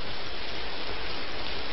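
Steady rain falls in a film scene, a dense, even hiss that holds unchanged for under two seconds, with no voices.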